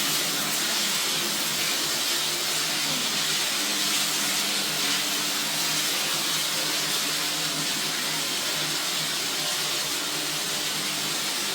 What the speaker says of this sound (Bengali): এবার আমরা সুন্দরভাবে এটাকে ভাজবো।